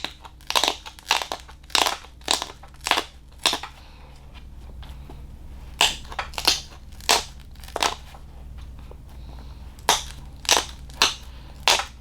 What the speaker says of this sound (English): all I'm going to do is continue to crush it into shape